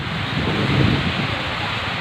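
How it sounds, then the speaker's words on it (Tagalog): Strong wind roars as a dense, steady rush of broadband noise buffeting the microphone, with no voices. "ganyan ang pagmalakas ang hangin"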